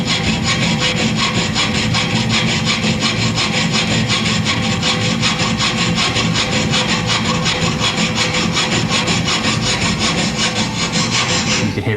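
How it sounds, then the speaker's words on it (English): A very fine jeweller's piercing saw cuts through silver in quick, even back-and-forth strokes, close and steady without a break, with no talking. "So what we're going to do is just saw pierce the ends of this off."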